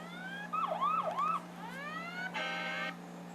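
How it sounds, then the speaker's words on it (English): A fire truck siren sound effect plays from a phone app: a rapid rising-and-falling electronic wail, then a steadier sweeping tone and a brief buzzing horn-like blast, all clear and close over a low steady hum. "they have all these different fire truck sounds."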